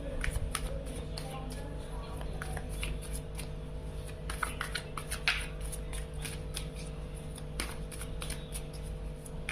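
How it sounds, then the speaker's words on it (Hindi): Tarot cards are shuffled by hand in a steady, continuous run of papery flutters and riffles, fairly close and constant throughout, over a low background hum. "कार्ड जब तक शफल नहीं करेंगे सही तरीके से"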